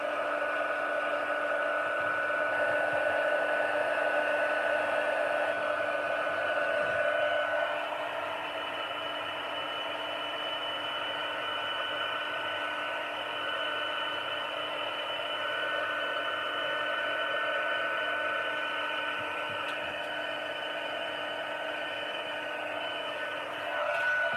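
A heat tool blowing and heating embossing material on a card: a steady, loud whirring hum with a constant pitch that runs unbroken and alone throughout.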